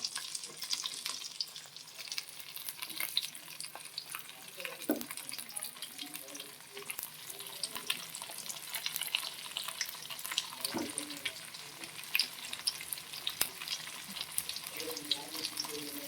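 Fresh brinjal is added to onions frying in a pan, giving a steady soft sizzle with irregular crackles, knocks and clatters of stirring throughout.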